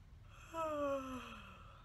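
A single soft yawn with a falling, drawn-out tone, heard close and quiet against a faint background hum.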